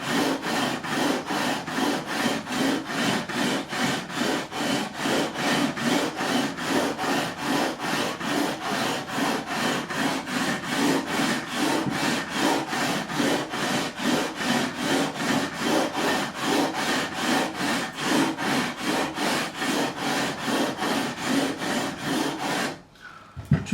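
Guitar frets on an Epiphone DOT being sanded with 240-grit paper along the fretboard radius, a steady back-and-forth rasping stroke repeated rapidly and evenly for over twenty seconds, close and loud, then stopping abruptly with a brief clunk.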